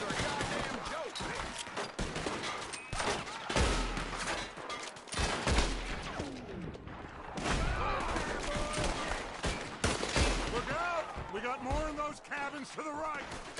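Rapid volleys of gunfire from Red Dead Redemption 2, with sharp shots and bursts scattered throughout and several heavy booms, while excited voices talk over the shooting.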